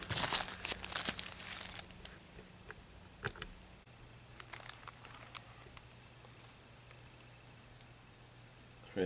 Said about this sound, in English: this test I'm going to actually take them out of the plastic container, the plastic bag